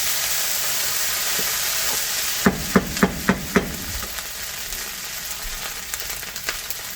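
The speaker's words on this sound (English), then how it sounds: "Stir fry goes pretty fast." Stir-fry vegetables sizzle steadily in a hot pan, a loud, close frying hiss broken by a quick run of four or five sharp metallic taps from a utensil against the pan.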